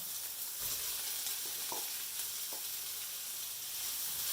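Onion and carrot fry in oil for chicken liver pâté, a steady broadband sizzle with a few soft stirring scrapes and no voices.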